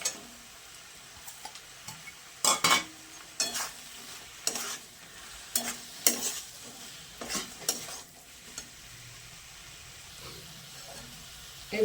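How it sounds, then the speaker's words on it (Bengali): Onion pieces dropped into sambar cooking in a pan, with a soft sizzle under repeated scraping and clinking stirs of a utensil against the pot, close and fairly quiet. "এবার এই পেঁয়াজের টুকরোগুলো দিয়ে দেবো।"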